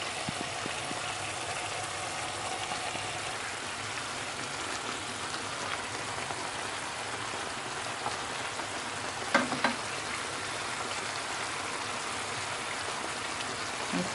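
Lamb chops cook in a pan while the water boils off, giving a steady, even sizzle and crackle at moderate volume, with no voices and only a small pop now and then.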